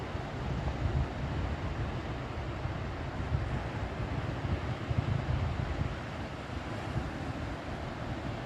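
Sea waves at Dapoli beach, a steady broad wash of surf and wind noise running continuously without talk.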